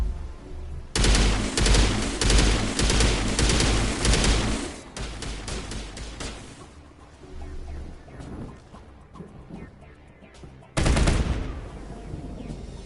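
Loud bursts of automatic gunfire and single shots in the Mass Effect Legendary Edition video game, with a long dense volley early on, scattered shots after it and a fresh loud burst near the end.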